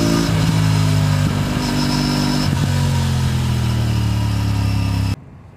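Aprilia RS 457 motorcycle exhaust revving hard and close, a loud continuous engine roar with pitch rising and falling and crisp pops, cutting off abruptly near the end.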